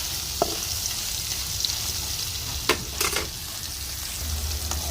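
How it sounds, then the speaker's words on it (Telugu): Paneer pieces deep frying in hot oil, a constant dense bubbling hiss with a few brief utensil scrapes and knocks, heard close with no talking. "మొత్తం అయితే బాగా ఆయిల్లో ఫ్రై చేసి ఒక పక్క తీసేద్దాం"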